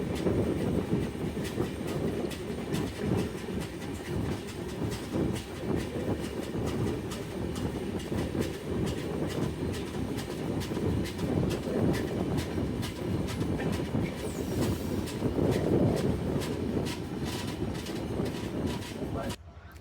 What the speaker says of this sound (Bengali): আমাদের ট্রেনটি এখন শ্রীনগর রেল স্টেশন প্রবেশ করলো।